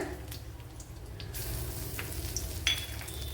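Mustard seeds and crushed cardamom frying in hot oil, a steady close sizzle with a few sharper crackles and pops, with no talking.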